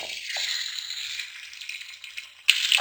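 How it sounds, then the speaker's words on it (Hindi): Chicken frying in ghee inside a handi, a steady soft sizzle throughout with a sharp clink of a utensil near the end, no voices. "2 से 3 मिनट में इसे फ्राई करूंगी।"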